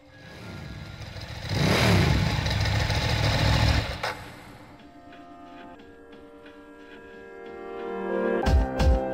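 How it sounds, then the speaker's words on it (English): A motorcycle engine idles in the video game Persona 3 Portable, a steady low hum and rumble that swells loudly, then settles into a quieter drone under game music before surging again near the end. "A motorcycle?"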